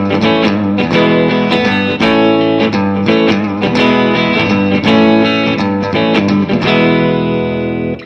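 Electric guitar played with heavy distortion through the bridge pickup, a dense, loud continuous riff of driven chords and notes with steady rhythmic picking and no pauses.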